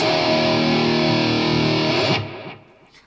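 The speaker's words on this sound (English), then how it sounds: "I have Fluff's amp pulled up, the ML Soundlab Amped Roots" A Charvel electric guitar played through an ML Soundlab Amped Roots amp sounds a sustained, heavily distorted chord. It rings loud and close for about two seconds before being cut off, leaving a brief fading tail.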